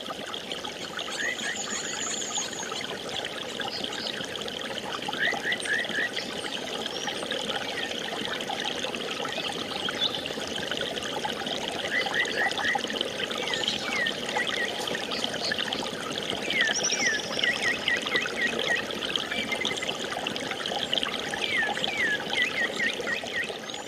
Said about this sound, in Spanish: Lo que acaban de escuchar es la grabación de un río que desapareció.